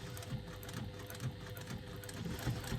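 A sewing machine stitches a seam on a fabric wristlet bag, a quiet, steady rapid patter of needle strokes with a faint mechanical hum beneath, heard up close and alone.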